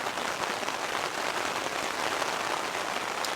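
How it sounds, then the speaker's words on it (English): Heavy rain pours down steadily during a winter storm camp in high winds, a dense, constant roar of drops close by with no talking. "Rain's definitely not slowing down like it was supposed to."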